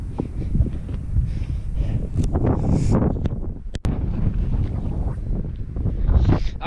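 Wind gusting across a microphone on a mountain trail up Mt. Washington in New Hampshire on a cool day, a loud continuous low roar and buffeting that swells and eases throughout, with no talking.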